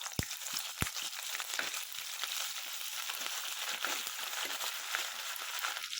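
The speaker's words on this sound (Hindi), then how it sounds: "तो अच्छे से हमें इसे फ्राई करना है जिंजर गार्लिक को।" Ginger garlic paste frying in hot oil in a pan while making masoor pulao, giving a steady, close sizzle with scattered crackles and a couple of sharp clinks from stirring.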